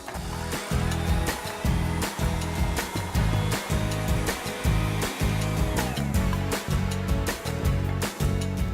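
A blender pulses roasted tomato soup to a purée, a loud, steady motor whir broken by regular short bursts and brief dips throughout, with no talking.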